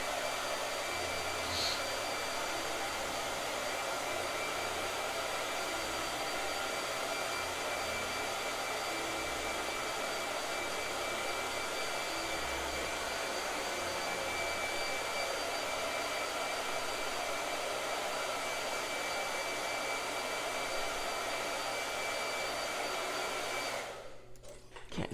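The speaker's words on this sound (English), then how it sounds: "Blow dryer." A blow dryer runs continuously with an even, airy whoosh for the whole stretch, moderately loud and unchanging, cutting off abruptly near the end.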